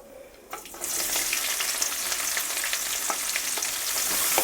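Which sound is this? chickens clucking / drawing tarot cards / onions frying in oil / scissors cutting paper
onions frying in oil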